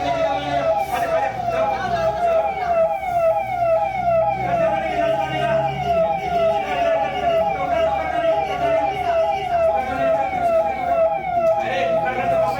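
A loud ambulance siren wails in a steady, rapidly cycling pattern throughout, close and dominant, with voices of people shouting faintly underneath during a Hindi stage play.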